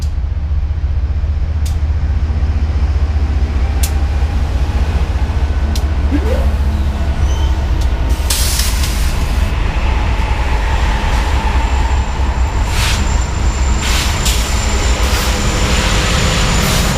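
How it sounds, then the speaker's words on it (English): Eastbound freight train passing at night near Kansas City, a loud continuous rumble and rattle of rail cars with scattered metallic clanks and squeals, close and unbroken throughout, with no talking. "That's an eastbound train."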